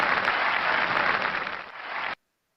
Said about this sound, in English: If everybody would please give a round of applause to Mr.